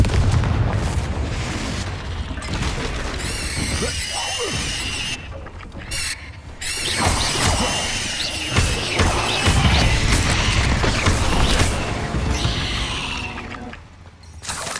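Confringo fire spell blasting in the video game Hogwarts Legacy, with a dense, loud booming explosion and crackling debris layered over continuous game sound, no talking.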